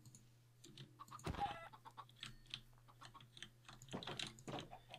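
Chickens cluck in the video game Minecraft, with several short clucks scattered over sparse background sound and a couple of louder bursts.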